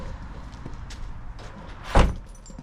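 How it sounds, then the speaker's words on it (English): On a BMW E46, an exterior car door handle is worked: faint clicks and light handling noises, then one sharp, loud latch clunk near the end, set against low background rumble with no speech. "Working door handle again."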